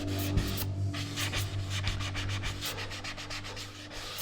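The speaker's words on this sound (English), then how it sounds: "just using a fine grade sanding sponge" Steady back-and-forth rubbing strokes of a fine-grade sanding sponge scraping wood edges, close and rhythmic, quiet with no voices.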